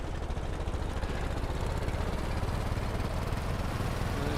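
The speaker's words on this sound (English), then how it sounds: "It's still revving quite high, not as bad as it was." A big boat engine in the video game Stormworks runs at a high idle, a steady, loud low drone with a rapid mechanical pulse that holds throughout with no talking.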